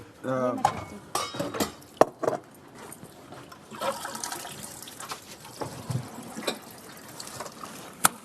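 Metal utensils washed and knocked together, with sharp clanks and clatter over running water, people talking in between.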